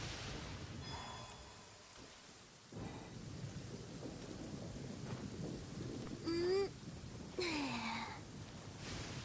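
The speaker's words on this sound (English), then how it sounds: "listening to the rain cleanse the earth makes me feel safe" Steady rain patters while low thunder rumbles faintly in the distance in the video game Genshin Impact. Two brief sweeping, whistling tones cut in near the end.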